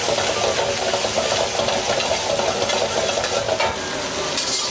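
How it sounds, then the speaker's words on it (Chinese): Pickled chili and Pixian bean paste stir-fry in a wok for a Sichuan dish, giving a loud, continuous sizzle with rapid scraping and stirring noises close up. "多一点郫县豆瓣，继续给它炒香"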